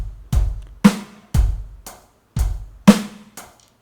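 A close drum beat of booming bass drum kicks and cracking snare hits, with an extra kick squeezed in before each snare.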